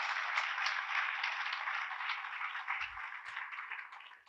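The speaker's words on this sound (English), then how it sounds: "Can we just give you guys a round of applause?" Steady applause fills a hall at a town inauguration ceremony, an even wash of many hands clapping that sounds somewhat distant and soft and tapers off slightly at the end.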